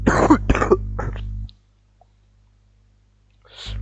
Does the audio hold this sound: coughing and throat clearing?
yes